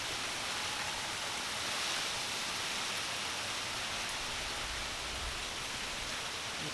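Steady, dense rush of rain and gusting wind during Tropical Storm Isaias near rising floodwater under a flash flood warning, a constant loud wash with no voices.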